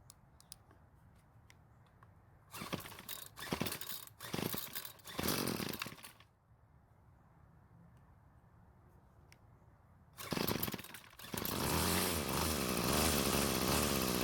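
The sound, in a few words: Bolens BL100 string trimmer engine running at half choke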